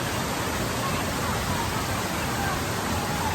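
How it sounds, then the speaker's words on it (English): Janet's Foss waterfall at Malham pours in a steady, dense roar, a close, unbroken wash of falling water that holds even and loud throughout with no pauses. "You can probably hear the thunderous downpour over me"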